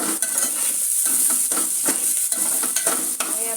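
Onion and tomato sizzle in a hot frying pan while a spoon stirs them, scraping and tapping in an uneven rhythm over a steady bright hiss.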